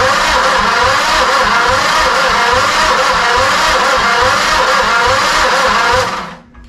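An old engine with its spark plugs pulled is cranked over, making a loud, steady churning whir for about six seconds before it winds down and stops.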